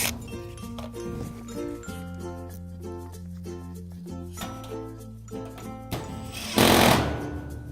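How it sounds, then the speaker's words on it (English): A power drill whines steadily with a pulsing, stuttering rhythm as it bores a hole through a door jamb and the sheet behind it, ending in a louder gritty burst near the close. "Just drill that hole out"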